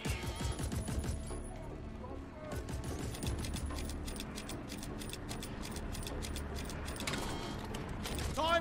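Gunfire in a video game: dense bursts of rapid shots, heard faintly, with clicking mechanical sounds and a game voice in the background.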